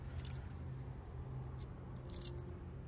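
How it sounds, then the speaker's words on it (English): Keys to a Cadillac Eldorado jangle in a few quick metallic bursts, faint and close, over a low steady background hum. "got the gold keys."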